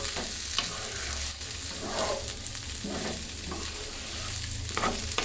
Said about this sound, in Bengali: চালটাকে ভালো মতন ভেজে নিতে হবে পোলার চালটা যত ভালোভাবে ভেজে নেবেন পোলাটা অতই ঝরঝরে হবে